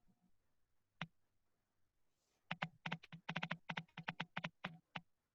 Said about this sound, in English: The typing.